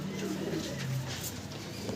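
Red jiriya pigeons, an old-line pair, coo in soft repeated low calls close by, a steady murmuring rhythm through the moment with no one talking.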